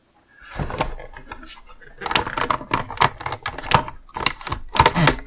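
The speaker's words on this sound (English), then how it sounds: "You can hear that clicking. This is actually the mechanics for how you steer this thing." A toy military vehicle's steering mechanism makes a rapid series of small plastic clicks and ratchets, close up, while someone talks over it.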